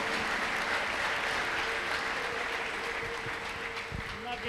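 A church congregation claps together in sustained, steady applause, loud and continuous across the whole moment, with a faint tonal hum running beneath it.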